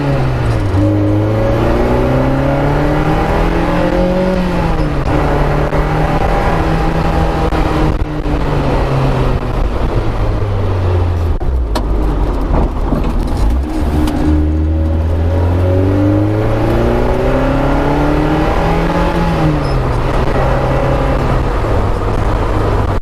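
A 1997 Renault Sport Spider's engine drones loud and close as the car drives, rising in pitch through repeated accelerations, easing off between gear changes, then pulling hard again.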